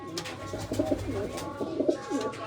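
Pigeons coo softly in a series of low, throaty, repeated calls, fairly close, with a faint hum in the background.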